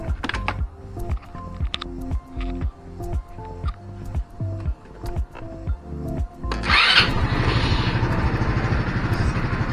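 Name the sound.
scooter engine starting and idling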